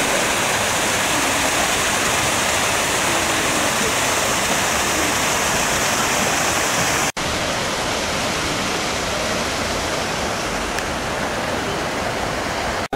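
Water rushing through a canal lock at Camden Town in London, a dense, steady roar of churning water, loud and close, broken by a brief dropout partway through.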